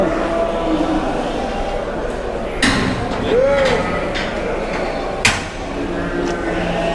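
A door at a livestock market weighing scale is pushed shut with two sharp knocks, one midway and a louder one near the end, over a steady crowd and pen clamor.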